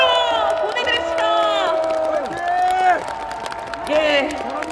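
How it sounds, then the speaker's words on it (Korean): A large crowd at a Democratic Party political rally in Yongsan, on the eve of a general election, cheers loudly with sustained, swelling shouts and rising voices. Some clapping is mixed in, close and energetic throughout. "박수로 보내드립시다"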